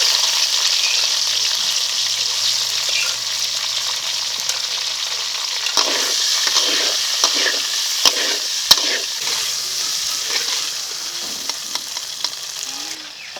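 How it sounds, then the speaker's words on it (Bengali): Kuchia eel pieces frying in hot oil, a dense close sizzle with crackles and occasional sharp pops as pieces are moved and lifted out, no voices. "মাছগুলোকে যদি এখানে এসে এখন তুলে নিচ্ছি বাকি মাছগুলোকেও ভেজে নিচ্ছি"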